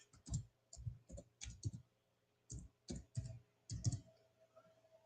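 Typing on a computer keyboard: quick clusters of crisp, close key clicks in bursts separated by short pauses, fairly quiet and with no voice over them.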